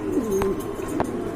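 Pigeons cooing close by in a loft, a couple of soft rolling coos over low background rustle.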